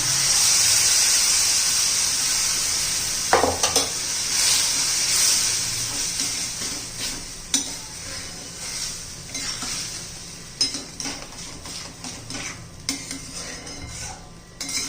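Spoon stirring cooked rice into healthy moong dal khichdi in a pot, with scraping and clinking of metal on metal over a steady steam hiss, close and fairly loud.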